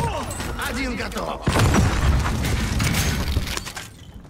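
A stun grenade goes off in the video game Warzone with a sudden loud burst and a rattling, crackling aftermath that fades over a few seconds, with someone talking over the start.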